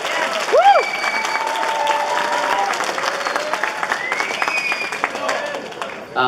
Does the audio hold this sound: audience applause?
yes